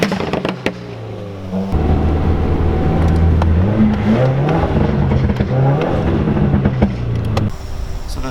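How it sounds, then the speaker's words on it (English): Car exhaust revved with the clutch in while coasting, the engine rising and falling in loud, close rev sweeps with sharp crackling pops and bangs scattered through it. "When I'm coasting in first or second gear, I just push in the clutch, rev it, and it just pops."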